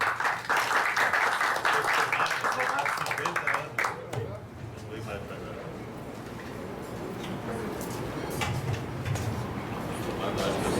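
Rotary Club meeting audience clapping for guests and visitors, a dense burst of applause for about four seconds that then thins into murmuring room noise and scattered claps.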